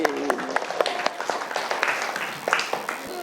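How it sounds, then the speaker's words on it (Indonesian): Students in an Indonesian classroom clap briefly in scattered, uneven bursts, with a teacher's voice heard over the short applause. "Bagus, tepuk tangan untuk Andi Al-Fatih."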